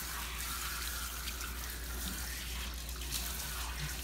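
Tap water runs steadily as a Shih Tzu's coat is rinsed of soap during a full grooming bath, a constant close hiss with no talking.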